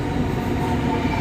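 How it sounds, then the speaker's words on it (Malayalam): A train rumbles steadily close by as it pulls into a station, a continuous loud mechanical roar with no talking. "വന്നു ട്രെയിൻ വന്നു"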